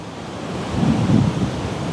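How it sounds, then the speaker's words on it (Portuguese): Rough sea at Copacabana beach, with waves crashing and rumbling in a broad roar. Wind buffets the microphone, and a heavier surge swells in the middle of the short stretch. "O mar tá bem agitado hoje."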